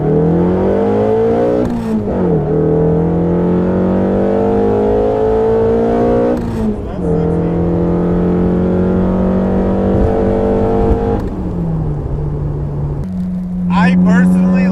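A 1600 Datsun Fairlady roadster with a swapped SR20 engine revs hard and climbs steadily through several gears, each upshift dropping the pitch before it rises again, loud and close throughout.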